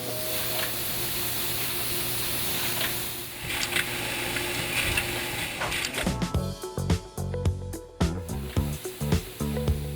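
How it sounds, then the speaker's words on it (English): A large factory machine at a Federal shotgun shell plant drops measured BB shot into partly finished shell tubes, first a steady dense mechanical whir, then a rapid series of sharp rattling clicks and clacks, loud and close. "This massive machine takes partly completed tubes and adds the exact amount of BBs to each shell."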